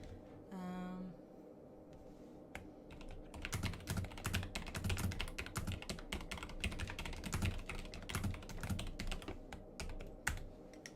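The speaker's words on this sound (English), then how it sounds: "Can I hear the keyboard from Danny Britt on Instagram?" Rapid, close clacking of keystrokes on a computer keyboard runs steadily for about ten seconds, with a short tonal blip near the start.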